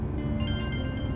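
A phone rings in a Turkish drama dubbed into Urdu, a steady electronic ringtone holding a sustained tonal pattern, fairly loud and alone for just over a second.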